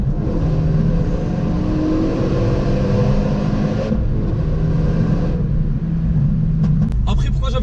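A Renault Megane 3 RS Trophy with an Akrapovic exhaust accelerates hard out of a corner, its loud, steady engine roar dropping briefly as it shifts gear, with no talk over it.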